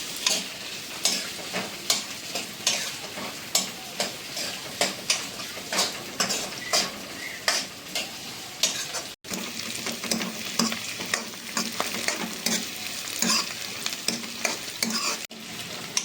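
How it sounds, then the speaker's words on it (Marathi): Vegetables for homemade Manchurian stir-fried in oil over high flame, a continuous close sizzle with regular sharp clinks and scrapes of a spatula against the pan throughout. "ही आपली भाजी भाजून झालेली आहे, एकदम तेलात परतून झालेली आहे."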